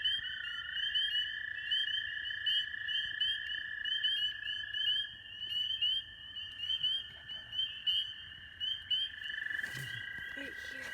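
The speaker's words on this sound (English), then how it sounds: "So we heard a peeper frog over this way." A spring peeper frog calls at night with a run of high, shrill peeps repeated at a steady pace. The calls are close and clear over a quiet background, and soft voices murmur near the end.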